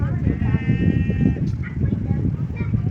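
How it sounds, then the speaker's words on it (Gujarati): A sheep bleats loudly nearby, a wavering drawn-out cry, over a rumbling outdoor background with a few fainter calls from other sheep and goats after, the animals at rainwater. "સરસ મજાના ઘેટા ને બકરા ને ગાડડા જો એ પાણીની મોજ માણે છે"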